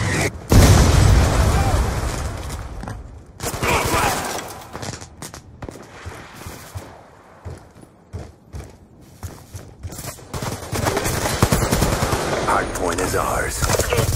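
Call of Duty multiplayer match with a Hellstorm missile strike: loud booming impacts open, then scattered bursts of automatic gunfire and pops thin out before heavy firing builds again toward the end.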